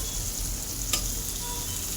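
Onions and dried red chillies fry in a pan, a steady, fairly quiet hiss and crackle with one brief sharp tick near the middle, and no voices.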